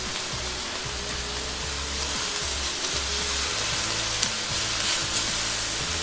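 Two chopped garlic cloves fry beside onions in a cast iron pan for a chicken and chorizo paella, giving a steady close hiss and sizzle with faint scattered pops and no talking.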